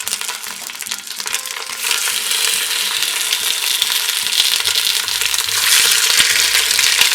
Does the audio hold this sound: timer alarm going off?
no